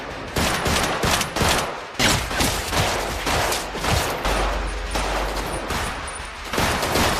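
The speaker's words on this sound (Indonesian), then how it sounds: "Lances menghujani musuh dengan peluru yang membuat Brooke cukup kewalahan" Heavy gunfire erupts in an action film shootout, rapid volleys of shots and bursts pouring out almost without pause, loud and close, with deep booming impacts in between.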